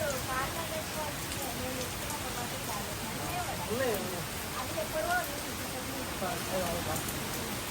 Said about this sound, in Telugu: ఇంకా వర్షం స్టార్ట్ అయిపోయిందనమాట.